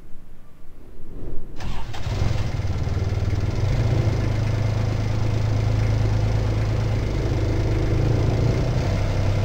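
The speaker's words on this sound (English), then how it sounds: "Alright, well let's start up this motorboat." A video-game motorboat engine cranks over and catches, then settles into a steady, loud, droning run with a low hum throughout.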